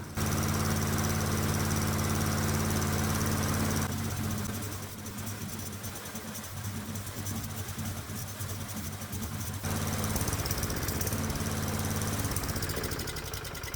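A hot bulb semi-diesel lawnmower engine runs steadily on leftover fuel, a loud close chugging drone with strong low harmonics that dips briefly in the middle before returning to full strength.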